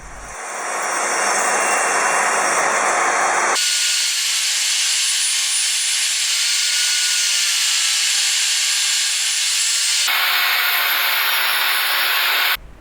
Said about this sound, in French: Donc retour à la scie sur table.